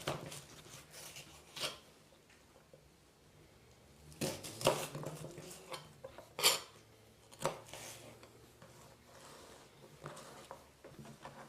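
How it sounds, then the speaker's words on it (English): A knife taps and knocks against a cutting board while vegetables are chopped for soup, scattered quiet clicks and sharper thuds spaced irregularly, faint and close, with no talking. "When you're chopping it like this, if you create a claw, it's the same process, and again applying a little bit of pressure."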